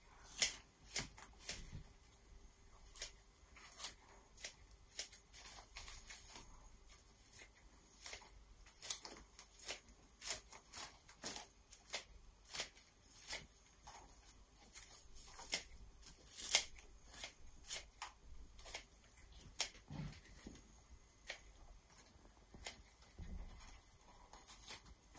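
Scissors snipping grass blades while trimming a woven grass basket decoration, a steady series of quiet, crisp clicks and cuts, close and soft, with no talking.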